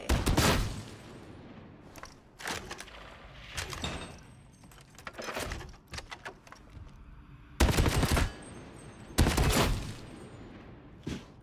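A heavy stubber machine gun in Warhammer 40,000: Darktide fires in several sharp bursts of rapid, loud automatic shots, with short pauses between bursts and two especially strong volleys near the end.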